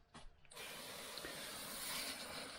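A hand-pumped fertilizer spray can sends a steady wide hiss of water onto an air conditioner unit being cleaned. A brief mechanical rattle comes first, then the spray runs on continuously, close by.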